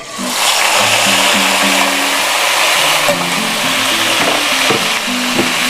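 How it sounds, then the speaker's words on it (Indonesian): Coarsely blended spice paste for shrimp and petai sambal dropped into hot oil, giving a loud, steady sizzle over soft background music. "Minyaknya sudah panas ya teman semua. Saya masukkan bumbu yang sudah di blender kasar."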